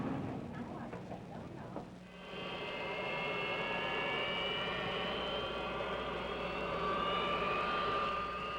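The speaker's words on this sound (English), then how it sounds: "Captain Rogers calls the tower and receives clearance to taxi to the end of the runway." Jet airliner taxiing at an airport with a steady whining turbine roar that swells and holds, close and loud, while someone narrates over the first part.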